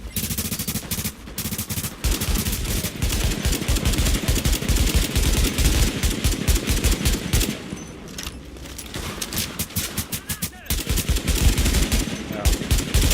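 Rapid bursts of automatic gunfire and single shots rattle in The Division video game, loud and dense, with brief pauses between volleys and a voice faintly underneath.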